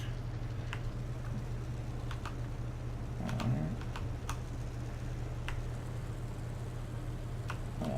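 Computer keyboard keys clicking in scattered bursts over a steady low hum, quiet and close, no one speaking.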